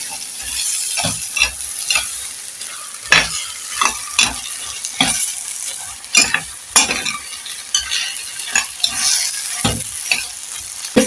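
Boiled green peas are stirred into a tomato, onion and carrot stew in a pot, with repeated close scraping and clinking strokes over a low simmering sizzle.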